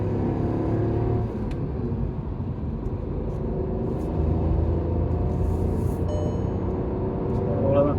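A Volkswagen Taigun with a 1.0-litre TSI petrol engine accelerates through the gears, its engine drone steady and close with a low rumble under a faint whir.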